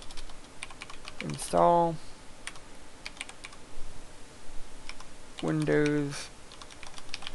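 Keystrokes from a computer keyboard as a command is typed into a Windows command prompt, a steady light clatter of taps running under two short bursts of speech.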